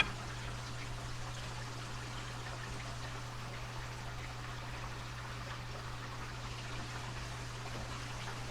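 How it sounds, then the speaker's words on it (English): Faint, steady running water from laundry being done upstairs trickles and pours through the ceiling, with a constant low electrical hum beneath it. "Sorry about the water noise, they're doing laundry upstairs."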